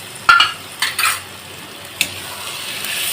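Tomato paste stir-fried with mutton in a pan, a few sharp spatula scrapes and clinks against the metal over a soft frying sizzle that grows slightly louder toward the end.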